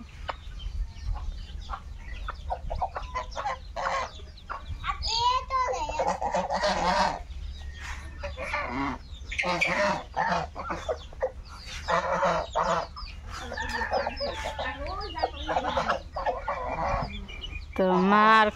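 Farm ducks quacking and honking repeatedly in a busy, noisy yard alongside chickens, close and fairly loud, with a low steady hum and occasional voices underneath.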